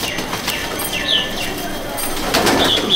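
A hand-held pigeon beats its strong wings in several quick, loud flutters close by, with faint bird chirps behind.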